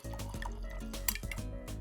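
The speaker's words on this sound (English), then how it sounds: "This is perfect with a Barossa Shiraz. Let's pour that in." Barossa Shiraz wine is poured into a cooking dish, a close, quiet liquid splash with gurgling drips running continuously and a faint clink midway.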